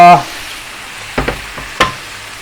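Water poured into a pan of sizzling shrimp chili sauce: a loud hiss at first, then it settles into a quieter sizzle broken by a few sharp stirring knocks, with no talking.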